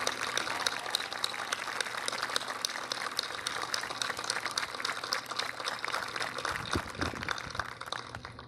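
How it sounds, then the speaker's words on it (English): A high school graduation audience applauds for AJ Pollock, a soft, distant, steady wash of many hands clapping that holds evenly throughout. "Can we have another round of applause for AJ Pollock?"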